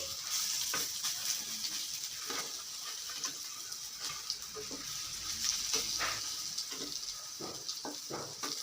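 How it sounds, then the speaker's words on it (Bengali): Pumpkin flower fritters fry in hot oil and are turned over in the pan, giving a soft, steady sizzle with scattered crackles and a few light clicks. "এপিট পিঠ করে ভেজে নিচ্ছি"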